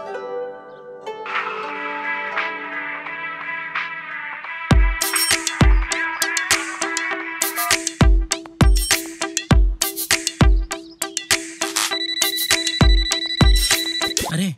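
A mobile phone plays a melodic ringtone while a call is placed to a friend, opening with soft tones before a loud, rhythmic electronic beat with repeating chimes carries on to the end.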